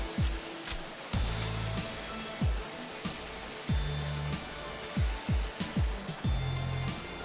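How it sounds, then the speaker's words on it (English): An airbrush sprays Auto Air sealer in a steady, close hiss, broken by regular soft thumps as the sprayer sweeps up and down and side to side. "since I am spraying out of an airbrush, notice I'm moving up and down and then right to left"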